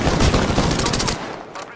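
Rapid automatic gunfire from a Prowler in Apex Legends rattles in a loud, dense burst, then cuts off abruptly into a quieter tail.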